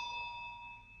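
A quiz buzzer bell rings with a sustained, steady electronic tone lasting about a second, sounding alone without talk during a film quiz.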